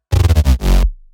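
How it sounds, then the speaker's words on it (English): A liquid drum and bass bass fill plays alone, a short run of deep, rhythmic synth bass pulses followed by a longer sustained swell that quickly fades out. "I have a bass fill here sounding like this."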